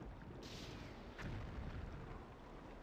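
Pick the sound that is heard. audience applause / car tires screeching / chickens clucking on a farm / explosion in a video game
explosion in a video game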